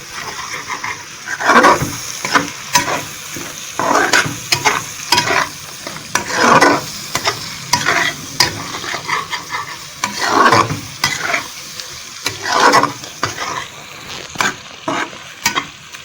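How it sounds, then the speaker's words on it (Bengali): A spoon stirs a curry in a hot pan after homemade garam masala goes in for muri ghonto, making repeated close scraping strokes over a steady sizzle. "হোমমেড যে গরম মশলাটা রেখেছিলাম সেটা দিয়ে দিলাম। এবার এটাকে ভালো করে নেড়ে নেব।"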